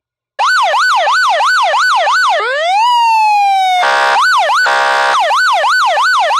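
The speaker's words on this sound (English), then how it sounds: "The horn and siren tones can be manually activated anytime." A LAMPHUS SoundAlert 100W PA siren speaker cycles through electronic tones: a rapid yelp, a slow rising-and-falling wail, then a harsh buzzing air-horn blast before returning to the fast yelp, loud and close with no talk.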